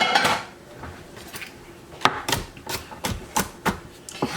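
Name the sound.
knife mincing garlic cloves on cutting board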